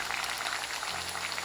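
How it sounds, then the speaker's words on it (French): Beans boil in a pot of tomato sauce, a close, continuous bubbling and popping that holds steady for the whole brief moment. "Les haricots qui bouillissent."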